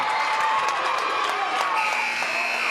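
A gym crowd at a school girls' basketball game erupts in loud, sustained cheering and shouting after a three-quarter-court shot, a dense roar of voices that stays strong throughout.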